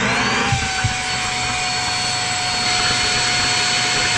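A vacuum steadily sucks air out of jumbo vacuum storage bags inside an RV, producing a loud, continuous whining roar with a high tonal whistle that holds close and unbroken throughout, with no speech.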